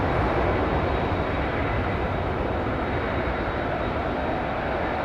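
An airliner departing London Heathrow's runway 27R gives off a loud, continuous broadband roar of jet engines at steady strength, with no break or letup.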